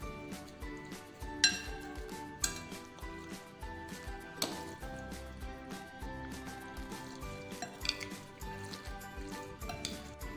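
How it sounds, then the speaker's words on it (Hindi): Grated tomato and masala are worked into raw chicken pieces in a bowl, producing steady, irregular clinks and light clatter of spoon on dish throughout, fairly quiet and close, without speech. "अब हम तमाम चीज़ों को हम अच्छे से मिक्स कर देंगे चिकन में"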